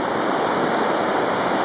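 Bright Angel Creek in the Grand Canyon rushes steadily beneath a trail bridge, a continuous broadband roar of flowing water with no breaks, close and fairly loud, no voices.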